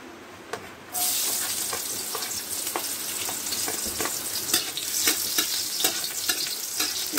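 Garlic and onion sauté in a pan for sotanghon guisado, a steady close sizzle kicking in after a brief quiet start, with scraping stirs breaking through at intervals.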